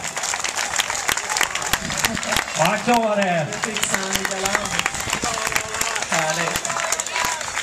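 Spectators clap continuously for a runner finishing the Kalmar half marathon outdoors, crisp scattered hand claps under an announcer speaking loudly over a PA.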